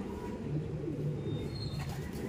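Racing pigeons cooing at a loft after training, soft low repeated coos close by with faint rustling and a few small chirps, no talk.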